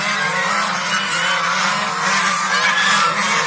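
Farm geese honk in a dense, overlapping chorus that carries on steadily and fairly loud throughout, with no voices over it.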